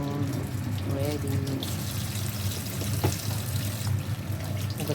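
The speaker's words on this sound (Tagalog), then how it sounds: "Hugas lang muna ako ng kamay." Tap water running steadily into a kitchen sink for a quick hand wash while preparing lunch of spinach with egg, a continuous splashing hiss with a brief louder splash near the middle, and someone speaking over it.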